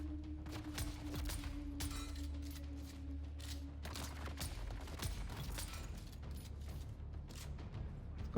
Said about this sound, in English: Got some power, this gun, but I just don't like the aiming on it.